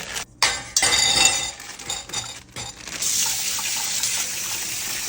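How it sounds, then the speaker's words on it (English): Baby gold potatoes are rinsed under a running kitchen tap, with splashing, gushing water and a few close clinks and knocks against the sink, the stream briefly cutting out before flowing steadily again. "And the little potatoes that I'm using is the baby gold ones. So let's wash them."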